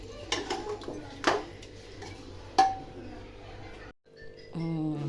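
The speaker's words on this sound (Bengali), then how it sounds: "এই যে গরুর মাংস রান্না আমার" A pot and metal utensils clatter while beef cooks, with several sharp clinks and scrapes over a steady sizzle before a brief pause and a humming tone at the end.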